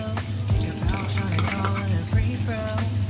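Salted egg yolk sizzles and is stirred with prawns in a hot pan, a close frying hiss broken by several scraping strokes and light clinks of a utensil against the metal.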